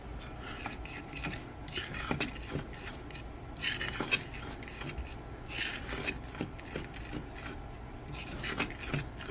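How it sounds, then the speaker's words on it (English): Utensil scraping and stirring food in a bowl while preparing a keto dish, giving soft irregular rasping and clinking strokes up close with no talking. "Gonna mix this up."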